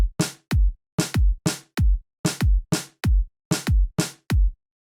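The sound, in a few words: snare drum pattern from a beat sequencer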